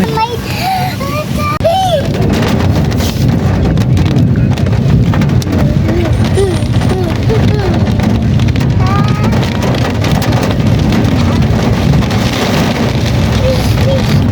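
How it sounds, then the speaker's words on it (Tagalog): Steady, dense rain pours throughout, a constant heavy wash of noise with scattered voices and faint clatter underneath. "Oh, lakas pa ng ulan"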